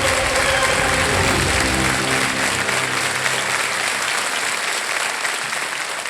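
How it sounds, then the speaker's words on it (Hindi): A studio audience at a TV quiz show claps loudly for a contestant, a dense and continuous wash of applause that carries on throughout without letting up. "तो एक बार फिर जोरदार तालियां किरण जी के लिए"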